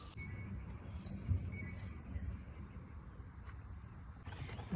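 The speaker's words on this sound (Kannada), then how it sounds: "ಬೆಳಿಗಿನ ವಾತಾವರಣ ನೋಡಿ ಅಂತೆ, ಹಕ್ಕಿಗಳ ಸೌಂಡ್ ಎಲ್ಲ ಕೇಳಿಸ್ತಿದೆ." Faint morning birdsong in a village vegetable garden, thin high chirps over a soft, steady bed of insect chirring, distant and quiet with no voices.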